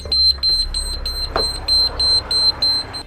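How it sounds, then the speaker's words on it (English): Emergency door release alarm on a train sounding as a loud, repeated electronic beep in evenly spaced pulses, with a brief clunk partway through and no voices. "Now as soon as you do this, an alarm will sound."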